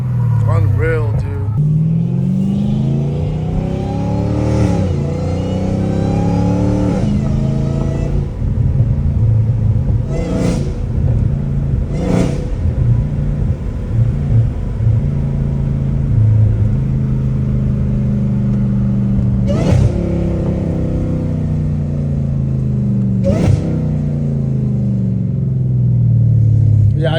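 A Dodge Challenger Hellcat Redeye engine revs repeatedly through straight-piped exhaust, deep rumbling rising and falling in loud surges with sharp pops between, up close.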